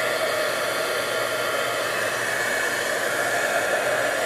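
A heat tool blows steadily to dry Island Indigo watercolor paint, a constant loud whooshing hum with no breaks and no voices.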